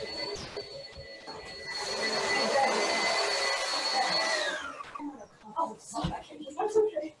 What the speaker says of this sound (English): they just started a vacuum cleaner outside.